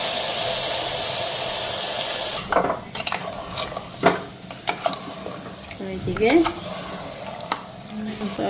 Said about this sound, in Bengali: এইদিকে মাংসটাও সাতলাই আনি